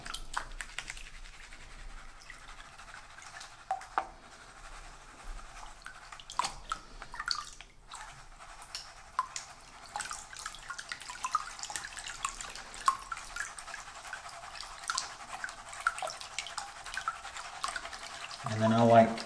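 A gold pan held under water is worked side to side to stratify the material, giving a long run of soft sloshing and swishing with scattered gritty clicks. A voice speaks intermittently over it.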